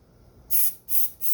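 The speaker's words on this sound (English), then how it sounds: "I'm going to pull out the pilot jet real quick, spray it out with the" Three short bursts of carb cleaner spray hiss through a pitbike carburetor's pilot jet, each loud, close and sharp, separated by brief pauses.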